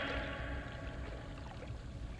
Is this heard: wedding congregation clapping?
no